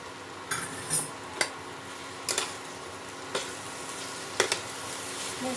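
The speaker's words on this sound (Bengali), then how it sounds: "ঘিটা দিয়ে মিলিয়ে নেব" Ghee is stirred into cauliflower keema frying in a pan, giving a soft steady sizzle punctuated by several sharp scrapes and taps of the spoon against the pan, close and fairly quiet, with no talking.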